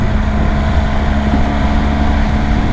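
Steady, smooth running drone of a BMW Boxer Twin motorcycle engine, loud and close with constant wind rush, no variation in pitch.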